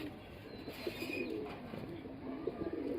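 Quiet, soft cooing from pigeons at a pigeon farm murmurs in the background, with a faint chirp or two and light shuffling.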